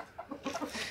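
A hen on a poultry farm gives a quick run of soft, close clucks in an uneven rhythm, with no talking over it.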